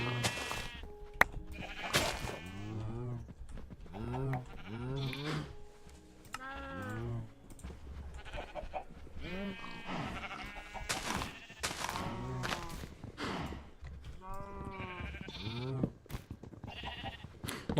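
Sheep bleat repeatedly in a blocky sandbox video game, a steady run of short wavering cries, some overlapping and others spaced apart, fairly close and clear throughout.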